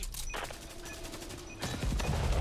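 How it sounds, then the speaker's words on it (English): Rapid automatic gunfire in a video game, a loud burst of closely spaced shots that grows heavier toward the end. "Okay, I'm shooting."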